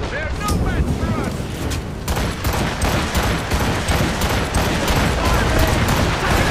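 Ship cannons fire in repeated heavy volleys during a naval battle in Assassin's Creed Rogue, a loud continuous rumble of booms with a voice shouting commands over the barrage.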